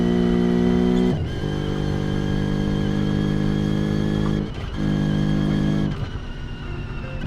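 A car engine in BeamNG.drive roars steadily flat out up a hill on the Nurburgring, loud and close, with a brief dip in pitch at about 1, 4.5 and 6 seconds where gear changes cut in.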